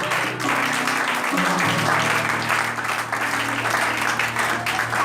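A church congregation applauds during a worship service, a dense, sustained clapping that fills the room throughout, with a voice talking over it at the start.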